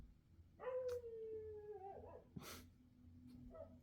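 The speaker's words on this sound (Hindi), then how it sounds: "ऊपर से कुत्ते बीच बीच में भौंक रहे हैं।" A dog outside at night lets out one long, wavering howl, then a short yelp and a few faint whimpers. It is moderately loud against a quiet, humming background.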